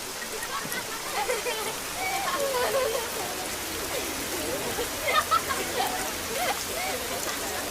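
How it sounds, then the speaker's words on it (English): Steady rain pours down, a dense even hiss of drops on surfaces filling the whole stretch at moderate loudness, with a few brighter splashes near the middle. "Look at this rain."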